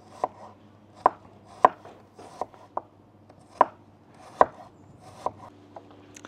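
A knife slices a Yalta red onion into thin half-rings on a board, about a dozen crisp taps in an uneven rhythm, close and clear, with no voices.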